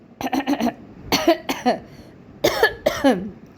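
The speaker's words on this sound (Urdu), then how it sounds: "مجھے تو بات کرنے سے پہلے ہی کھانسی لگ گئی" Several sharp, close coughs in quick bursts, a cluster of short hacks followed by two more fits after brief pauses.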